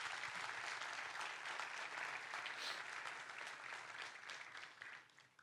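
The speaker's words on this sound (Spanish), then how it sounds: "Dele un fuerte aplauso a Dios." A church congregation claps loudly and steadily, dense applause filling the space for several seconds before thinning slightly toward the end.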